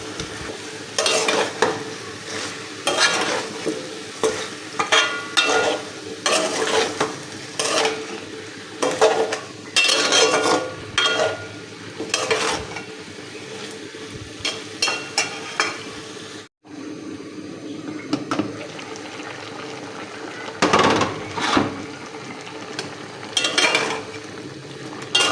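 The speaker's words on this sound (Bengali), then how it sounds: "তো এখানে আমি হলুদের গুঁড়া, মরিচের গুঁড়া আর হচ্ছে লবণ এখন এটা মিক্স করে নেব" A spoon stirs turmeric, chili powder and salt in a pan, the scraping strokes coming in repeated close bursts over a soft sizzle, with a brief pause midway.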